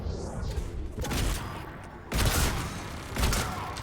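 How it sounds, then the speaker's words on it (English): Turret fire in the video game Mass Effect 3 comes as loud bursts of booming, whooshing blasts, one volley after another over a dense battle din, with no voices. "The annoying turret sound is right there."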